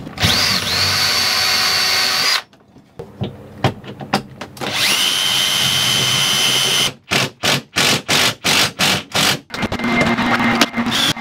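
A power drill screws a compression ring into the channel of an RV window, with loud whining bursts of varying length followed by a run of short, rapid pulses at close range.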